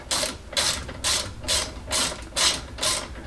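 A hand ratchet backs out 12mm brake caliper bolts on a Land Rover Discovery 2: seven evenly spaced bursts of quick metallic clicking, close and crisp, with short gaps between strokes and no talking.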